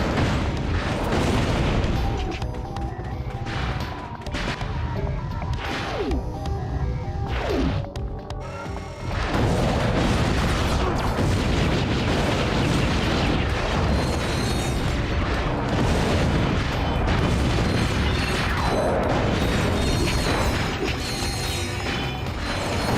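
Repeated mini bomb blasts in the game Ratchet: Deadlocked, heavy booms and crashes in a dense, loud stream of combat noise, with a brief lull before the explosions pile up again for the rest of the stretch.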